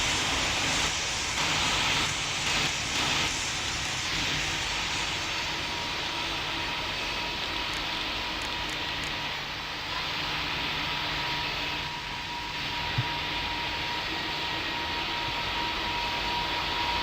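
Steady broadband jet roar of an aircraft landing in the Pilot Training Flight Simulator game on Roblox, a constant airy hiss with a faint engine hum throughout.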